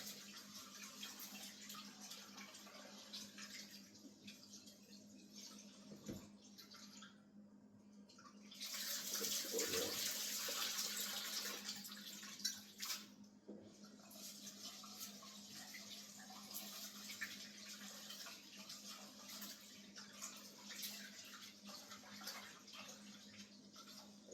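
Rice is rinsed in a pot of running water, a steady quiet wash that swells into a louder rushing pour midway before settling back to a gentle trickle, with no talk.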